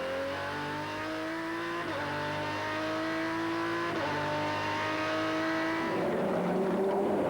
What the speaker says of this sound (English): You could feel him easing the throttle open then.